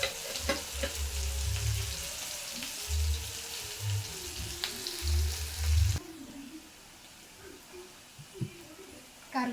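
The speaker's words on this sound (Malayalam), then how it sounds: "ഇനി നമുക്ക് ഈ ഉള്ളി ഇട്ട് കൊടുക്കാം. ചെറിയ ഉള്ളിയാണ് ഇട്ട് കൊടുക്കുന്നത്." Small onions (shallots) sizzle steadily in hot oil in a pan after mustard seeds, with a bright frying hiss and occasional clinks and scrapes of stirring.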